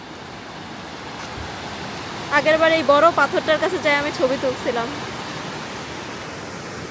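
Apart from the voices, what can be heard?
strong stream of rainwater rushing over rocks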